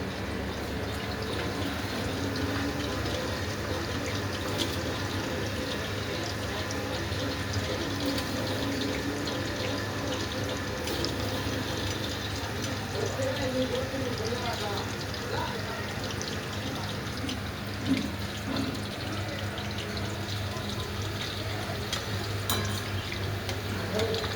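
Pre-soaked rice goes into a pot of boiling water while making soybean veg biryani, a steady, fairly loud bubbling and watery rush running unbroken for the whole stretch.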